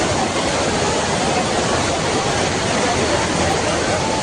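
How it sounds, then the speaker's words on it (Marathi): Water overflows fast at Bhushi dam near Lonavala, a dense continuous roar of rushing water, loud and steady throughout with a faint murmur of a crowd beneath. "पाणी किती वेगाने ओव्हरफ्लो होत आहे हे बघा."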